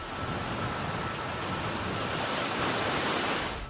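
Strong floodwater from a typhoon in Taiwan surges through streets, a dense, steady roar of rushing water filling the whole clip with no gaps and no voices.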